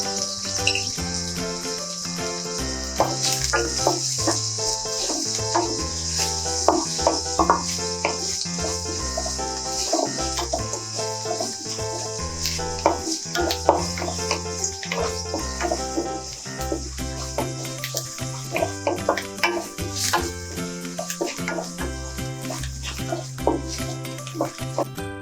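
Onions sauté with rock salt in a pan for elephant yam kuzhambu, giving a steady, soft sizzling crackle with a constant hiss throughout.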